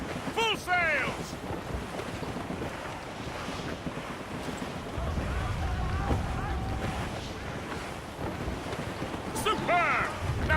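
A sailing ship under full sail in the video game Assassin's Creed Rogue, with a continuous rush of wind and waves around the hull, shouted voices over it at the start and end.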